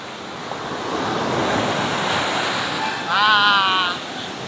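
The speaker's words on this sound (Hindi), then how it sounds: "कितना खूबसूरत है लहर" Sea waves wash and roll at Kalapatthar Beach on Havelock, with steady wind buffeting the microphone and a brief faint whistling tone near the end.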